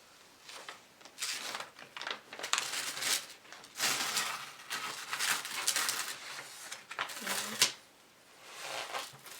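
A sheet of wrapping paper is unrolled while Christmas presents are being wrapped, giving bursts of loud crinkling and rustling paper noise that come and go in uneven surges, close and dry.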